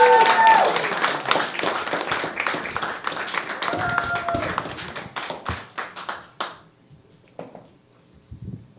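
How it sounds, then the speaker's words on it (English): Comedy club audience applauding after a stand-up set: a burst of close, loud clapping and cheering that thins into scattered individual claps and dies out. "Give another round of applause, guys."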